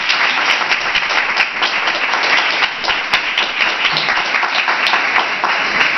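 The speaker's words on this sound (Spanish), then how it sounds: "Quiero que le dé un fuerte aplauso a David" A crowd at a book presentation breaks into loud, sustained applause, a dense wash of clapping that holds steady for several seconds.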